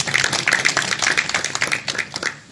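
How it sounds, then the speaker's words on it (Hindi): An outdoor crowd at a Kashmir Solidarity Day bike tour event applauds DM Jamil with steady, dense handclapping that continues throughout and eases off at the end. "DM जमील साहब के लिए भरपूर तालियाँ होनी चाहिए"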